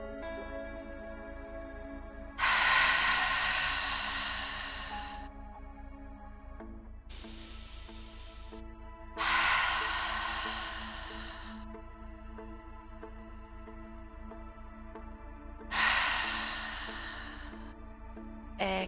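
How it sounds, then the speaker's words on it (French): Slow, hissing yoga ocean breaths drawn through a tightened throat, coming in separate long waves with quiet gaps, over a soft sustained tone in the background. "vous êtes capable d'entendre le son des vagues à travers de votre respiration"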